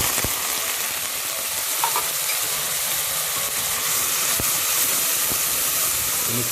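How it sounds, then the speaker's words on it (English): Onions sizzle steadily in a hot frying pan while cooking gosht beliram, a continuous crackling hiss with a few light clinks of a utensil. "our onions have come to a sizzle"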